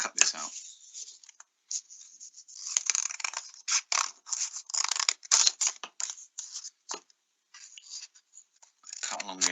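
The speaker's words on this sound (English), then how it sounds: "Now I need to cut that out, and I cut. Here's my scissors." Scissors cut out a paper shape in irregular bursts of crisp snipping and paper rustling, close by, broken by short pauses.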